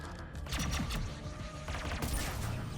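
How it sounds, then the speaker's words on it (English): Shotgun blasts and rapid gunfire in a Mass Effect firefight, with loud, sharp bursts in quick succession over a continuous rumble of battle. "Tally just using that shotgun from a distance."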